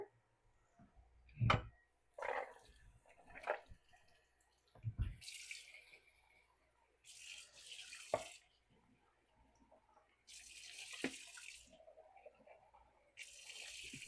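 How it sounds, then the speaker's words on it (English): A pull-out kitchen faucet on its spray setting rinses canned beans, giving bursts of hissing spray water between clunks and clatters of the can and dishes at a sink, nearby and fairly loud. "if you have a faucet that comes off like this, just putting it on the spray option can be a really nice way to"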